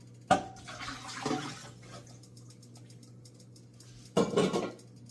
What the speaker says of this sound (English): Then we're going to take and put our water in there.